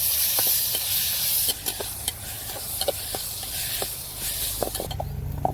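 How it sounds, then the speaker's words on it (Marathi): Onion and tomatoes fry in a pan during farm cooking outdoors, a low hissing sizzle punctuated by frequent quick stirring clicks and scrapes, with no speech. "मी टोमॅटो लगेच टाकले कारण आपण टोमॅटोला सुद्धा फ्राय करणार आहे"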